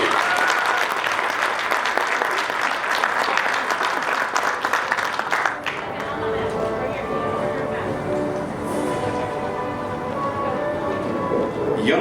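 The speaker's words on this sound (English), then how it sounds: "Everyone, a round of applause for Anthony Guevara." Crowd applause at a middle school graduation ceremony for a student, dense and loud for about five seconds, then giving way to a quieter stretch with people talking in the background.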